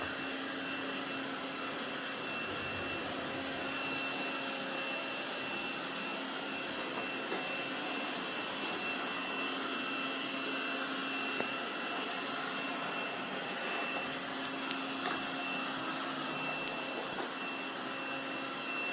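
A robot vacuum cleaner runs across the floor of a home with rugs, giving a steady, continuous whirring hum that holds at an even level for the whole stretch, with no voices.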